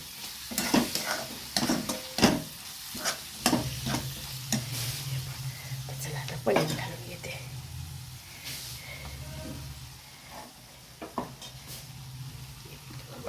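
Tomato, onion and spices cooking down in a pan for paneer bhurji, with a steady low sizzle broken by repeated sharp scrapes and clinks of a spoon stirring against the pan.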